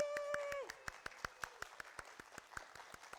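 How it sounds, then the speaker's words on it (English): A church congregation claps for a woman who organized an event, a steady run of sharp, evenly spaced claps ringing out over a fading sustained tone, fairly close and moderately loud. "So let's really give her a big round of applause."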